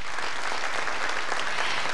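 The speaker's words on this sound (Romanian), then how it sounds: "Maestrilor, aplauzele noastre!" An audience claps steadily for the live orchestra backing a folk ensemble on stage, a dense, even wash of applause that holds at a constant level throughout with no voices over it.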